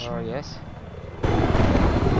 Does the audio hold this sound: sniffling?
no